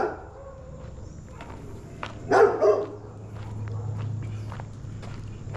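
A dog on a rural walk near Medellín, Colombia gives a short burst of two or three barks around the midpoint, moderately near, over steady footsteps and low background hum.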